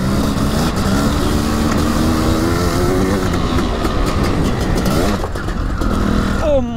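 A Maico 700 motocross motorcycle engine roars loudly and continuously up close, pitch shifting as the rider works through the throttle.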